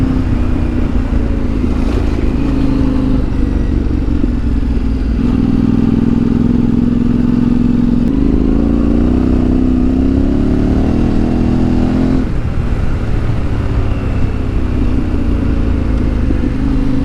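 A Yamaha Tenere 700 motorcycle climbs a loose gravel mountain road on a hot day, its engine droning steadily and loudly at close range with shifting pitch and rattling clatter throughout, no talking.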